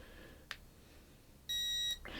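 A REDTIGER VAC21 car vacuum gives a single sharp electronic beep, near and clear for about half a second, with short clicks of the button before and a burst of blowing air after.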